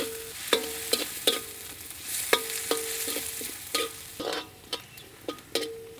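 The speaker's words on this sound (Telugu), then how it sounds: "ఉల్లిపాయలు బ్రౌన్ అవ్వవసరం లేదండి, కొంచెం మెత్తబడే వరకు వేయించుకుంటే సరిపోతుంది" Chopped onions fry with dried red chillies in a pan, sizzling steadily while a utensil scrapes and stirs in sharp, repeated strokes at close range, with no talk.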